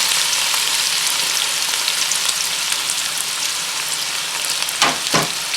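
Finely chopped onions sizzle and fry in hot oil with cumin, making a steady bright crackle near the pan, with a couple of stirring scrapes toward the end.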